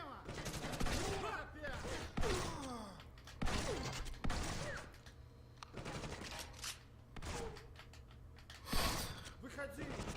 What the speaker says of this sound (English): That shotgun's not too effective at range, but close up it can be a real fucker.